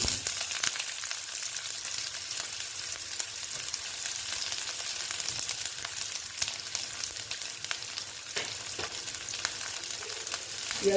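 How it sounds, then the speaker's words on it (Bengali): Garlic and chopped onion fry in oil in a home kitchen pan for leafy greens, a steady close hiss of sizzling with occasional faint stirring clicks, no voices. "আমি রসুনটা ভালো মতন ভেজে নিচ্ছি যেন রসুনের গন্ধটা একদম চলে যায়"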